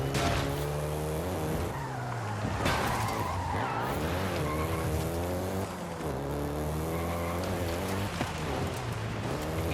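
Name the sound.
Volkswagen Golf GTI driving in video game Forza Horizon 5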